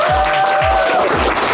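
Audience applause for a community award recipient at a recognition ceremony: a short burst of steady, dense clapping, loud and fairly close, with no talk over it.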